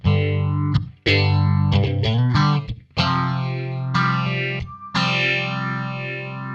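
An electric guitar played through an Xvive mini Phaser King pedal set at noon, clean-toned strummed chords ringing with a sweeping, swirling phase shift, several separate strums each left to sustain.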